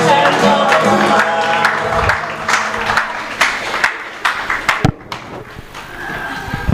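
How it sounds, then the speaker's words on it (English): Audience applause after an opening performance at a valedictory lecture, a dense roomful of clapping that swells and continues for several seconds, with crowd noise and some sharp individual claps near the end. "Let's give them another round of clap."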